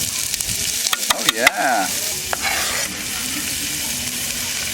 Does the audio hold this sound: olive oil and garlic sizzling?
yes